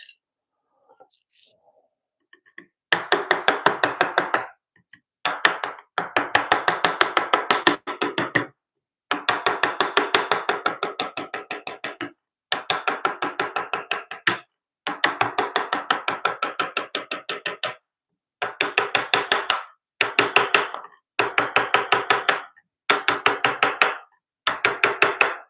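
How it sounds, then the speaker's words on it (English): Wood being chiseled in a home workshop, with a long series of rapid, sharp strikes in bursts of a few seconds separated by short pauses, close and loud. "Don't hold your workpiece when you're chiseling."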